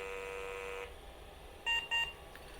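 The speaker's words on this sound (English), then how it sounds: "I'm going to turn it on and just see if I can hear some post beeps." An old Gateway PC starting up gives two short, sharp electronic POST beeps close together. A steady hum plays before them, then drops away.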